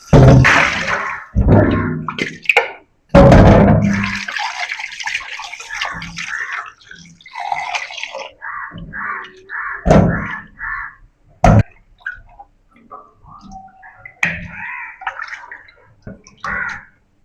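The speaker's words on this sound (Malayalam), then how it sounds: "അപ്പൊ നമുക്കിനി ഉളുമ്പ് മണമൊന്നും ഉണ്ടാവാൻ നന്നായിട്ട് ഒരവി കഴുകി എടുക്കാം" Running water washes freshly cut fish for a Kerala fish curry, a broad splashing rush with bursts and gurgles that comes and goes over about seventeen seconds, loud and close, with no talking.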